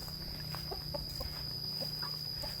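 Large hens cluck and murmur softly at a rural home, with scattered short clucks over a steady high-pitched insect drone, fairly faint and distant.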